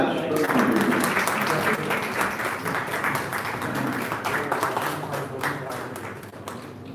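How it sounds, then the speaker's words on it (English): Sustained audience applause at a conference inauguration ceremony, steady dense clapping throughout that fades slightly toward the end, with faint voices mixed in. "The clap must continue."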